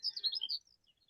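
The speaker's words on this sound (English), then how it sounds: "you can hear the bells in the distance and you can hear the birds in the foreground" Close birds give a quick cluster of bright, high chirps lasting about half a second, then fall quiet.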